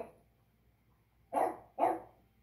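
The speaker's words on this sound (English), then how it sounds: "Sorry about my dog. She's just going bonkers." A female dog barks excitedly indoors, two sharp, loud barks about half a second apart, near the listener, with quiet room tone around them.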